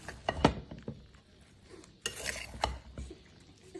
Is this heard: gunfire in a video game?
no